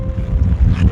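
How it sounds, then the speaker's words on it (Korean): Strong storm wind gusts roar steadily and loudly against the microphone as a low rumbling buffet, with no speech. "바람이 순간 확 불었다가 조금 잦았다가 확 불었다 잦았다 그러네요."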